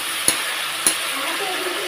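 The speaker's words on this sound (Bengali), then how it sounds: "এখন ভালোভাবে মশলাটাকে কষিয়ে নেবো" Spice paste with a splash of water fries in a pan under a soft, steady sizzle, with two sharp clicks of a utensil scraping and stirring spaced about half a second apart.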